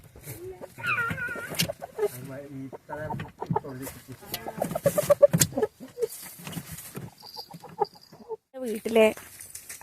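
Chickens, including two roosters, cluck and squawk in short, uneven bursts at close range inside a coop, mixed with rustling and occasional louder calls; no one speaks.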